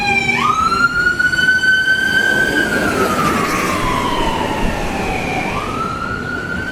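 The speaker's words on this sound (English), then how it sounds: "they'll be going into one of these that's going by, an ambulance" An ambulance siren wails past on the road, loud and close, its long rising and falling tone dropping in pitch as the vehicle goes by, with traffic rumble underneath.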